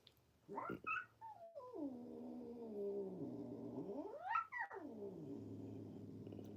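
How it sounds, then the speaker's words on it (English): A male cat hisses and yowls at a kitten indoors, with drawn-out rising and falling wails and a sharp burst midway. The sounds are close and fairly loud over a low steady hum. "He's hissing at the kitten."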